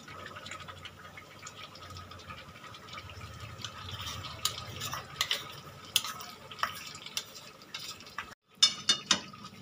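Ground cashew paste goes into a hot pan and is stirred, a soft wet sizzle under repeated spatula scrapes and light metallic knocks, with a brief pause before a few louder clanks.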